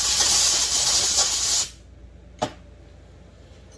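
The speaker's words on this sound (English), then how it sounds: "Blow these other two screws out." Compressed air blasts loose screws on a Stihl MS 460 chainsaw, giving a loud, close, steady hiss for under two seconds that cuts off abruptly, followed by one short puff of air.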